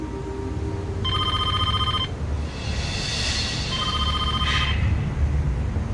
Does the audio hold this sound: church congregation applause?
no